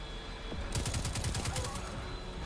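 Sniper fire in the Destiny 2 PC beta, a rapid string of about a dozen sharp, evenly spaced gunshots starting partway in, fairly loud against a steady game background with no talk.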